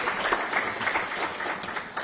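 Economic summit audience applauding after a speaker's address, uneven clapping with scattered individual claps standing out from the mass, moderately loud and without talk.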